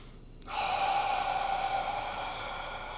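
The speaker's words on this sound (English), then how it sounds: "So let's go ahead and breathe together deeply in through the nose." One deep, drawn-out breath is pulled in through the nose with an airy, hissing rush that starts suddenly and holds steady, close and fairly loud.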